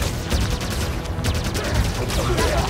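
Gunfire from the video game Halo 5: Guardians comes as bursts of rapid shots over a noisy game soundtrack, moderately loud and repeated across the stretch, with faint talk in the background.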